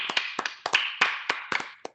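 Sharp hand claps come close and clear in an irregular rhythm, around ten in two seconds, over quiet background hiss.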